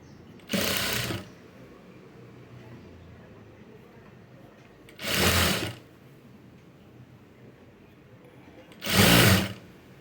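A sewing machine stitches self piping on a blouse in three short, loud bursts separated by quiet pauses.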